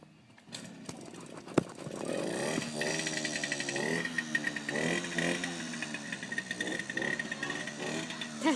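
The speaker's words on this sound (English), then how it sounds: "Ava, you want to ride that motorbike" A motorbike engine revving and droning nearby, its pitch rising and falling over several seconds, with a dog present and no clear talk over it.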